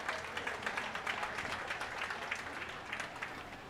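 Applause at the Custer County Fair 2023 for the heifer class winners and their kids, steady rapid clapping from a modest crowd, fairly faint and distant, continuous for a few seconds.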